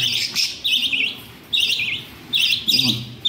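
Shrill, high chirping from several baby birds comes in repeated bursts with short pauses between, close and fairly loud.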